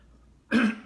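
A single short cough, close and fairly loud, rising out of quiet room noise.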